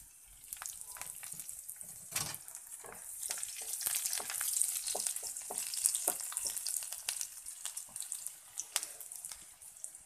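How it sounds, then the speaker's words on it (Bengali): Chopped garlic fries in a pan, a bright, close crackling sizzle that builds and keeps popping steadily, with occasional stirring. "এখন রসুন কুচানো দিলাম"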